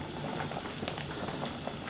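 Water boiling vigorously in a pot while beef short ribs blanch for galbitang, a dense, continuous bubbling roar heard close and alone throughout.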